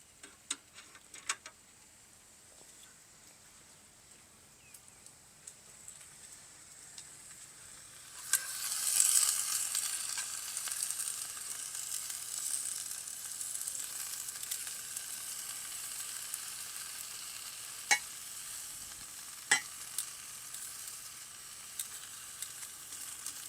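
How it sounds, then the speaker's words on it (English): Salmon and vegetables cook over an open fire, a steady close sizzle that swells about a third of the way in and continues with scattered sharp ticks and pops. "You have to cook up some veggies with it."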